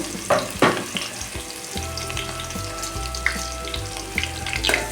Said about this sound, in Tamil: ஒரு ரெண்டு வெங்காயம் போட்டுக்கலாம் சின்ன வெங்காயம் இருந்தாலும் போட்டுக்கலாம் அது அதுவும் டேஸ்ட்டாக இருக்கும் நல்லா வதக்கி விட்டுறணும்